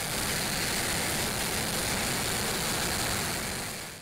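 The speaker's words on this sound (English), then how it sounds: "teams lit the X-59's integrated engine for the first time" The integrated engine of NASA's X-59 aircraft running, a steady dense broadband roar that holds level throughout and fades slightly at the very end, with no voices.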